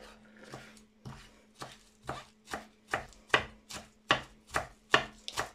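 Mint and coriander are chopped on a board for a chicken biryani marinade, with a dozen or so crisp knife strikes in an even rhythm that speeds up a little toward the end, close and alone.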